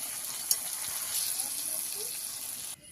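Sea crab cooking in a pan as mustard paste mixed with water goes in, a close, even sizzle and bubbling hiss with a small clink early on, ending abruptly.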